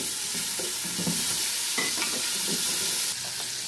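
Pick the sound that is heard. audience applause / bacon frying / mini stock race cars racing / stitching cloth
bacon frying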